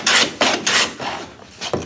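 A hand plane takes strokes across wood with the blade set slightly high for a coarser cut, giving four or five close, loud rasping swipes in an uneven rhythm, with no voices.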